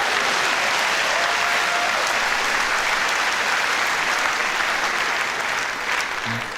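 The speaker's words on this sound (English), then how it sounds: "That applause was for me, by the way." Dense, sustained audience applause at a live comedy show, loud and even throughout with no talk over it.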